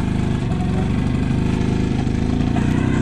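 Running engine of a 1989 Vespa 50S scooter: a steady, buzzing two-stroke drone with a fast, even pulse, close and fairly loud throughout, with no talk over it.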